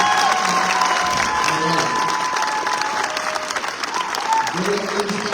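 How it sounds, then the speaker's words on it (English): A forum audience applauds the mayor with dense, lively clapping and some cheering, rolling on steadily before tapering as a voice speaks briefly over the fading applause near the end. "Can we get one more round of applause for our mayor?"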